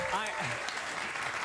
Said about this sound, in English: They saw a window to clap and they clapped.